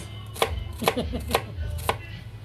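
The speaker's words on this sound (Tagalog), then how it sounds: "hiwa lang ako ng sibuyas" A knife chops an onion on a cutting board in a home kitchen, with four or five sharp, evenly spaced strikes, close and clear, and no talking.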